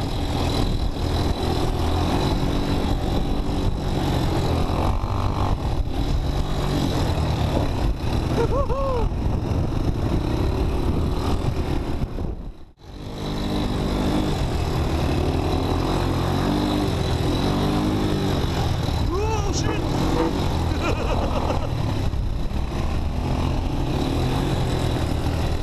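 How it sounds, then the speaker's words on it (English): Rumbling ATV engine runs steadily through a long ride on a groomed course in Jeju Island, South Korea, loud and close throughout, with a brief cut to near silence midway before the motor noise resumes. "Next day, we started the day with ATV ride."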